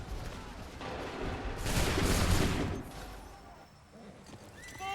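Musket volley fired on command in a video game battle, heard as a dense burst of overlapping shots swelling into a loud rolling crash over steady battlefield noise, with faint horse sounds in the background.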